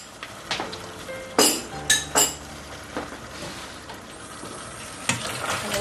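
A spoon stirs ketchup into mastani chicken in a pan: a few clear metallic clinks and scrapes against the pan over a soft background sizzle.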